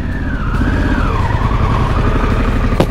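A 2021 Harley-Davidson Pan America motorcycle swings through a U-turn. Its engine note drifts gradually lower over loud, steady road and wind noise, ending in a brief sharp burst with no voices.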